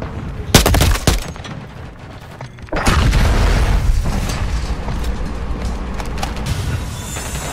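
Explosions and bursts of gunfire in a multiplayer shooter video game, with a sharp blast at the start, another loud burst near the middle, and a sustained roaring rumble with scattered shots afterward.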